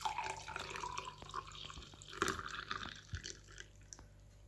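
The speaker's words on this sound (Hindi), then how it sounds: "इसमें मैंने गरम गरम दूध डालूंगी।" Hot milk poured into a cup for dalgona coffee, a short close liquid splash and trickle with small drips and faint kitchen clatter, no talking.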